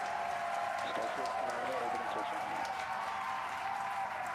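Crowd cheering and clapping at a SpaceX Starship launch, a broad, sustained roar of voices and applause heard from within the crowd, with a voice talking over it.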